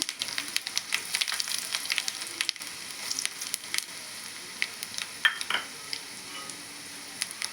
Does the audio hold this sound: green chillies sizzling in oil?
yes